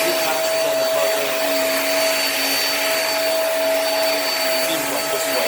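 A Hoover React vacuum cleaner runs steadily over carpet, producing a loud, constant whirring roar with a high whine throughout and no talking.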